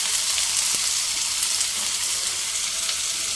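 Chopped onion, capsicum and carrot sizzle steadily in a hot pan for an egg roll filling, a dense, even crackling hiss that stays close and constant with no one speaking.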